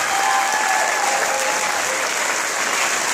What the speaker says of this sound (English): Let's give all of our performers, band and chorus, a round of applause.